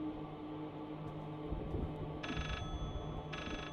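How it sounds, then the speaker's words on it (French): In the horror video game Layers of Fear, a telephone rings out in two short electronic bursts over a low, droning ambience, with no talking. "Il est où le téléphone?"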